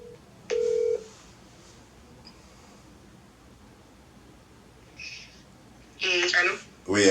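A telephone call is dialed: a short tone and a few beeps sound over a quiet line, then louder buzzy ringing tones arrive toward the end, with no words spoken.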